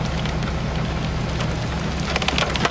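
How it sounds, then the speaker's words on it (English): Heavy rain sweeps in during a severe winter storm in Oklahoma, a loud, dense, constant roar of wind-driven drops with a low rumble underneath and no voices. "I hear something. Is that rain coming?"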